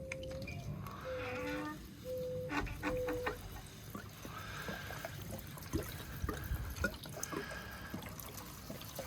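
Fresh SP95 petrol pours from a container into a vessel holding six clutch cups from a Ducati Monster 900 S ie, a steady, close trickle over some background noise.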